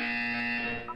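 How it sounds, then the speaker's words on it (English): A harsh electronic buzzer sounds in the Portal video game, a loud sustained tone lasting nearly a second before cutting off, heard alone without speech. "When you hear the buzzer, look down at the floor."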